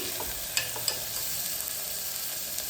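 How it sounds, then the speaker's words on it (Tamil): Chopped onion and a ripe tomato sauté in a pan for a country chicken curry, a steady close sizzle with a couple of sharp clinks of a spoon stirring against the pan, and no talk. "ஒரு தக்காளி பழுத்த தக்காளி ஒரே ஒரு தக்காளி எடுத்துருக்கேன் அதையும் போட்டு நல்லா வதக்கிக்கலாம்"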